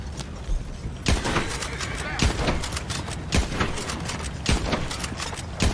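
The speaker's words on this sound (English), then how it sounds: "Oh, are you shooting at me?" Scattered gunshots in the Red Dead Redemption 2 Online multiplayer game, a handful of sharp cracks spaced a second or so apart over a busy game backdrop with voices talking.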